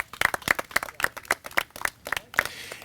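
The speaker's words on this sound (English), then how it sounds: "Please give them a big round of applause." A short burst of rhythmic hand clapping, sharp evenly spaced claps from a small group at an outdoor playground opening, fairly close and without speech.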